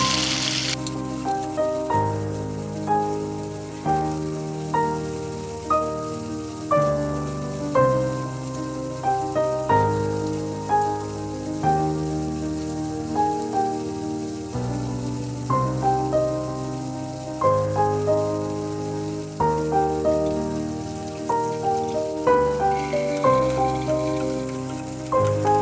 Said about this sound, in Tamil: இப்போ இது வந்து நல்லா ஃப்ரை ஆகட்டும்.